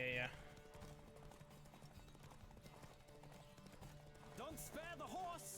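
A horse clip-clops along in The Witcher 3 video game, rhythmic hoofbeats under game music and a voice talking, with a brief whinny near the end.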